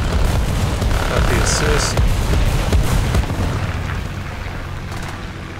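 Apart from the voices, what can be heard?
artillery explosions in War Thunder video game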